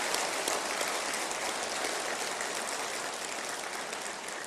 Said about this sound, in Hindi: एक बार उनके लिए भी ताली बजाएं